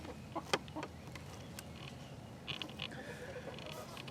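Soft, scattered clucks and short calls from several chickens, fairly quiet, against a low outdoor background with occasional louder squawks.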